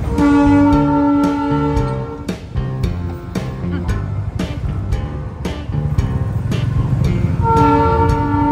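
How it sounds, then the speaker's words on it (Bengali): The Darjeeling toy train runs close alongside the road on the Kurseong route, sounding several loud horn blasts over rhythmic clattering wheels and rumble, with the horn returning near the end. "বেশ খানিকটা সময় জুড়েই এই টয় ট্রেন আমাদের সঙ্গী হয়েছিল।"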